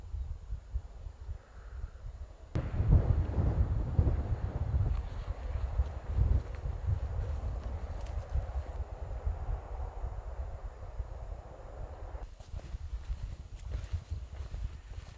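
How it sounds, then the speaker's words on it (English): Wind gusts buffet the microphone in a remote, sandy area of old sandhills in Hungary, a low rumbling rush that swells suddenly and keeps blowing steadily with no voices. "The wind is not on our side today."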